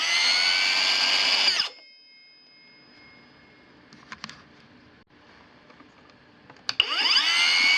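Kobalt 24V 4.5-inch compact circular saw, model KCCS124B, whines loudly at full speed, then its brake stops the blade abruptly, leaving quiet handling noises before a second loud spin-up near the end.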